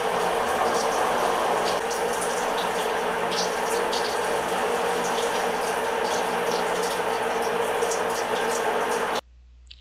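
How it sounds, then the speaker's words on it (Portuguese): A running electric shower gives a steady loud hissing spray of water with a faint whining hum underneath, continuous until it cuts off abruptly near the end. "Tá um barulho estranho, tá notando o chuveiro?"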